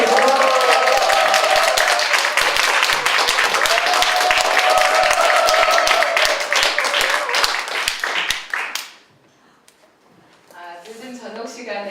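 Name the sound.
audience applause welcoming a speaker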